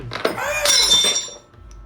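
Glass breaks in a single sharp crash with bright clinking shards scattering, loud and close, lasting about a second before fading.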